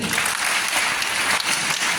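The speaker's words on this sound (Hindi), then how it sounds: "एक बार तालियां बजा दीजिए।" Audience applause after a call to honour a deputy chief minister at a business motivational event, a steady dense wash of clapping filling the whole stretch without voices on top.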